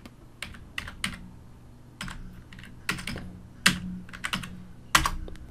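Typing on a computer keyboard during a computer practical class, with irregular bursts of sharp clicking keystrokes close to the microphone and short pauses between them, no talking.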